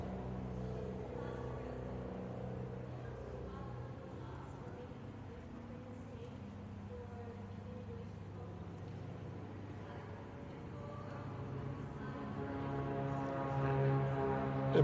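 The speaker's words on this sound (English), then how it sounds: "Forgive the planes in the background." Aircraft fly overhead during an outdoor press announcement, producing a steady, loud low rumble with engine drone throughout that swells louder toward the end while people talk.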